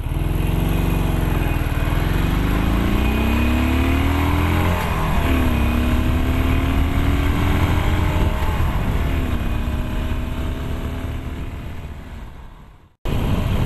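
A Harley-Davidson Iron 883 motorcycle pulls away from a standing start toward 100 km/h. The loud, close engine rises in pitch through several gear changes, fades, then cuts off before a brief burst.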